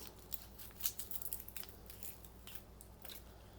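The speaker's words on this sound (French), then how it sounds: "Je viens prendre un petit oignon. On va venir le couper en petits morceaux." A small onion chopped into small pieces on a board, with faint, crisp knife cuts clustered in a brief quick run and then thinning out against a quiet kitchen background.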